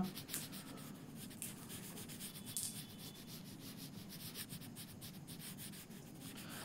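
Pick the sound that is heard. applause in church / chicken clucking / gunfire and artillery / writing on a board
writing on a board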